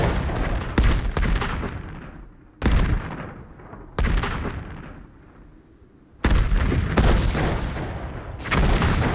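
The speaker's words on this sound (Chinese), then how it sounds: "这一轮的轰炸炮弹量明显减少" Artillery bombardment in a Korean War battle drama about Chinese volunteers fighting US troops, with heavy booming blasts arriving in several loud bursts, each followed by a long fading rumble before the next impact.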